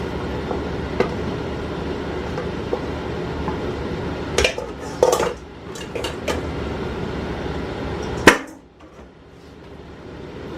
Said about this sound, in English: we're going to stir some more